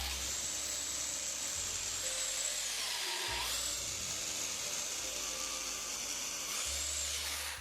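A high, whining SDS drill runs almost continuously, boring a 6mm hole into masonry with a brief dip midway and a few slight changes in pitch.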